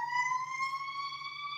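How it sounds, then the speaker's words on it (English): A steady siren wail with stacked tones rising slightly in pitch, faint and distant, heard alone for a brief moment. "sirens."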